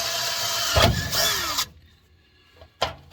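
A power drill whines loudly for about a second and a half drilling metal on a 1949 Chevy Styleline, then cuts off, followed by a short burst of the drill again.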